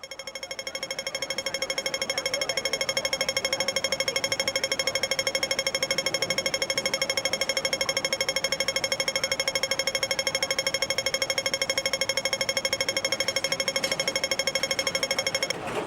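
A pedestrian crossing signal ticks in a very fast, steady rhythm, with a bright, tonal beep pattern that repeats continuously at an even loudness for the whole span, with no voices.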